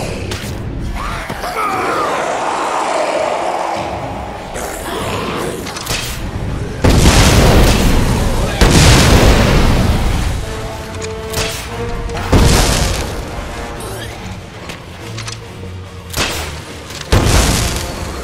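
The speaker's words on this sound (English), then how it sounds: "Fireworks!" Fireworks burst in the video game Dead Rising 4 as a series of deep booms and blasts, several loud hits separated by short gaps, with rumbling tails between them.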